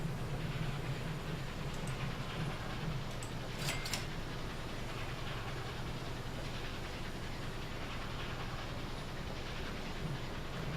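Steady low rumble of trains rolling along in the video game Train Fever, a continuous wash of engine and track noise, fairly faint, with a few brief high clicks.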